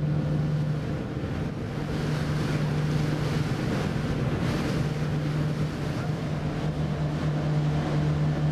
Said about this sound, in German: Von hier bringt uns eine Fähre nach Meersburg.